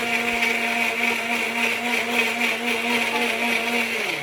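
A mixer grinder whirs steadily as it blends mango with chilled milk into a shake, a loud, even motor drone with a constant pitch and no pauses.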